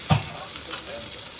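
Gyoza frying in a hot pan after the lid comes off, giving a steady close sizzle with a brief louder pop at the start and no talking.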